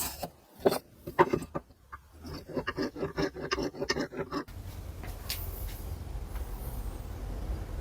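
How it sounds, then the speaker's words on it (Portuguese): A plane blade or chisel is rubbed back and forth on fine sandpaper in quiet, irregular rasping strokes, first in distinct scrapes and then in a softer continuous rubbing. "Então agora a gente passa para as próximas lixas e no final faz o polimento da mesma forma que a gente fez o outro"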